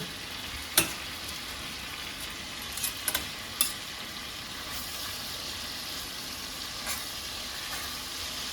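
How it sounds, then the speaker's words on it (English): Steady sizzling crackle of osso buco veal shanks frying in a pan, with a few sharp clinks and taps of utensils against the pan. "it's going slightly brown on the outside from the frying"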